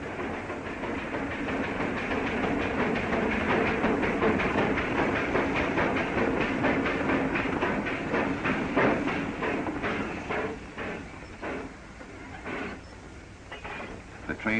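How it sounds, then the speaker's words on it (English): A steam locomotive with a smoking stack pulls a passenger coach slowly up a steep grade into a tunnel, a continuous rumbling chug with rhythmic clatter that thins and echoes toward the end. "The train came to a stop with the passenger coach still inside the tunnel."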